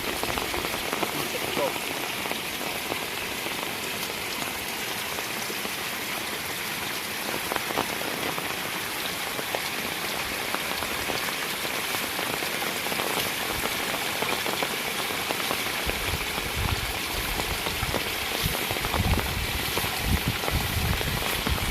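Steady heavy rain from typhoon Enteng pouring onto surfaces around a rice field, a dense continuous hiss with constant drumming and no pauses.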